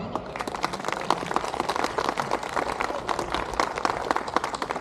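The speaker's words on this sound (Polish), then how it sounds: "Wielkie brawa!" A crowd at a Polish gathering gives a loud, sustained round of applause, dense overlapping hand claps that continue evenly throughout without any speech.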